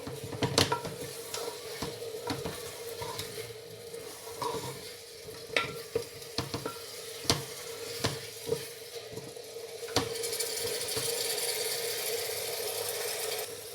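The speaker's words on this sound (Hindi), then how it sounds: "मसाला भून लिया अच्छी तरह।" Masala spices fried and stirred in a pan for chana dal, a steady sizzle with repeated scraping and clinking strokes of the spoon against the pan, fairly quiet and close, with no talking.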